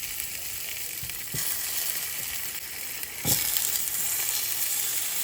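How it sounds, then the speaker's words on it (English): Potatoes sear in olive oil in a cast iron pan on medium-high heat, a loud, constant sizzle close up, with a couple of brief knocks as the pieces are moved. "Now to that, we're going to add some olive oil, and then our potatoes. What we want to do is we want to get a really good sear on these."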